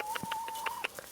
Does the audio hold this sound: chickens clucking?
yes